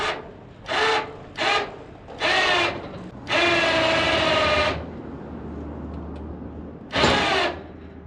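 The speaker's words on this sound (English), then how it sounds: "So if I pull my winch that way, the car will go this way." An electric winch pulls a car onto a car trailer in repeated whining bursts, several short pulls then a longer run and a final burst, close and fairly loud over a low background hum.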